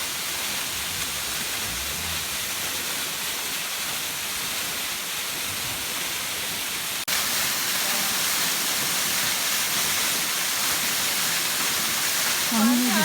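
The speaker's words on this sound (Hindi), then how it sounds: "ये है वाटरफॉल।" A waterfall in Barot Valley, Himachal, roars as a steady broadband wash of falling water, loud and constant from start to finish and growing slightly louder partway through, with no speech over it.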